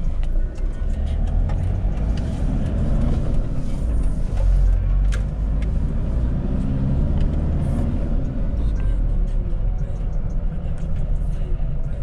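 A Nissan Pickup D22 3.0 Turbo pickup truck on new shock absorbers drives through small streets, its engine rumbling steady and close with road noise while it accelerates, along with faint knocks from the cabin.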